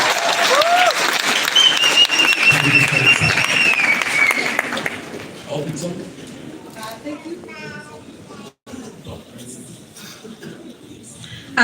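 Applause at a graduation ceremony, dense clapping at first that gradually thins and fades, while voices and chatter continue underneath and a speaker talks over the tail.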